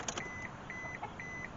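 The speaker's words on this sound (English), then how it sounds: "I got that stupid door buzzer going ding," A Mitsubishi Mirage that has been sitting, with no spark and no fuel pressure, sounds its door buzzer in a steady series of three evenly spaced electronic beeps, close and clear over a faint background hum.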